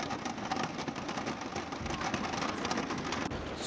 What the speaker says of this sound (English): This is the sound of the rain.